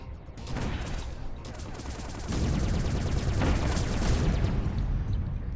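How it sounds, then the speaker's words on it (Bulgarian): Rapid video game gunfire rattles continuously, loud and dense, swelling heavier partway through with a booming, barrage-like roar and no voices. "Добре, нещо ме стреля."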